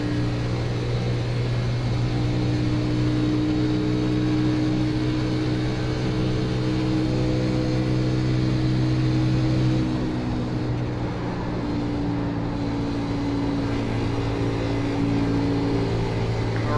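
Race car engine droning steadily in a racing video game set in the 2018 NIS Monster Energy Series, a continuous loud buzzing hum with a slight drop in pitch partway through and no speech.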